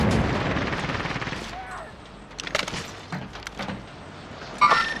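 Gunfire in the Call of Duty Warzone video game: scattered bursts of shots at mid-distance, intermittent rather than sustained, mixed with game ambience and clatter.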